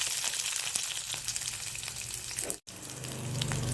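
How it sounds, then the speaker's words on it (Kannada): Garlic and green chillies fry in a pan with a steady, close crackling sizzle that briefly drops out for a moment before resuming. "ಹಸಿಮೆಣಸಿನಕಾಯಿ ಹಾಕಿ, ಇದನ್ನು ಕೂಡ ಸ್ವಲ್ಪ ಹೊತ್ತು ಫ್ರೈ ಮಾಡಿ"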